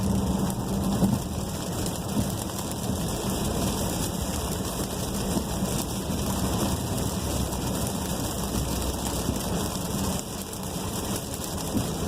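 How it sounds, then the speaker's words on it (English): Hard rain drums steadily on a Volkswagen Tiguan while it drives through Maryland traffic, a constant wash of rain over low engine and road rumble. "And you can hear the rain. It's been raining pretty hard right now."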